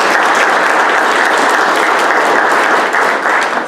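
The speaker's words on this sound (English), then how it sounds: "So put your hands together" Dense, steady audience applause in an orientation session hall, a continuous wash of many hands clapping at even loudness throughout, with no talk over it.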